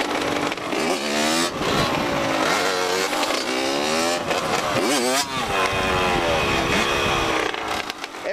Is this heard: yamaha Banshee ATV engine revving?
yes